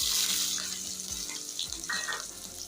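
Garlic fries in oil in a pan, sizzling and crackling steadily, with a few low thumps from a utensil and a brief watery hiss partway through.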